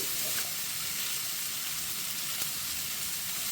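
Carrot and spinach frying in a pan, with a steady, moderately faint sizzle that hisses evenly throughout and no talking.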